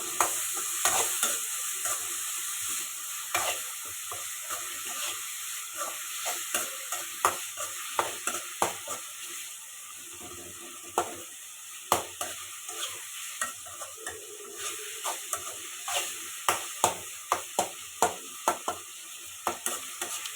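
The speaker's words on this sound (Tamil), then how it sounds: "கொஞ்ச நேரம் அப்படியே வதங்கட்டும்," Tomato and turmeric fry in a pan as the base for a fish curry. A low continuous sizzle runs under repeated sharp spatula scrapes and stirs that grow quicker and more regular toward the end, heard up close.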